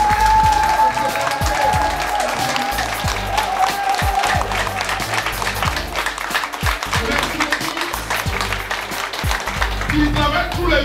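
An audience applauds to honour a director at a TIENS Africa gathering in Abidjan, with steady, dense clapping filling the room throughout and a voice faintly audible beneath it.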